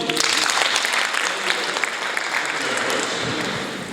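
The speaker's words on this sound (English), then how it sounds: "Please clap for him." Audience applause for a guest speaker at a Pan-African talk, a steady dense wash of clapping throughout, fairly loud and close, with a few voices mixed in.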